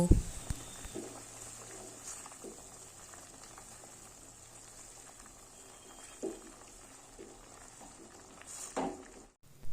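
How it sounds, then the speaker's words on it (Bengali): Vegetables for a Bangladeshi-style Chinese vegetable dish simmering in a pan, a soft, continuous bubbling and hiss with a few faint clinks and knocks scattered through it. "এগুলোকে ভালো করে মিক্সড করে নিয়ে ফুটতে দেব এবং অপেক্ষা করব একটু সবজিগুলো সিদ্ধ হয়ে যাওয়ার জন্য"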